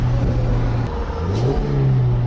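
A Mazda SkyActiv car engine revs and holds steady near 4,700 RPM before launch at high altitude, a loud close drone whose pitch dips and then climbs again, with no talking.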